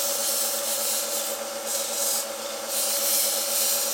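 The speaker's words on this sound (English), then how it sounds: "we'll just take the burr off a bit" A hand file scrapes the burr from the freshly cut end of a metal rod held in a vise, a steady rasping rub that is close and continuous.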